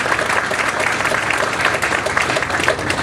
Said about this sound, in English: Why don't we give a little round of applause for the leaders of the port